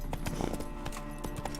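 Horse hooves clip-clop at a steady trot in The Witcher 3, a close, even rhythm of hoof strikes under a low background hum, with no talking.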